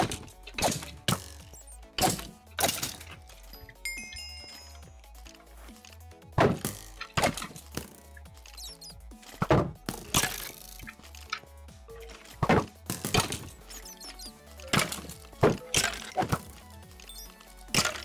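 Arrows strike a raised shield in Minecraft, a series of sharp, irregular cracks and thunks spread through the stretch, sometimes in quick pairs, loud and close against faint game background.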